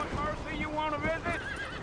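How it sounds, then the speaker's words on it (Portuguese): A horse in the video game Red Dead Redemption whinnies with wavering, rising-and-falling cries, close and loud, alongside hoof clip-clops, while a person talks over it. "Tem como empinar o cavalo aqui, será?"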